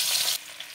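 Chopped onion and black cumin hit hot oil in a pan with a brief bright sizzle that drops to a quieter crackle after a moment.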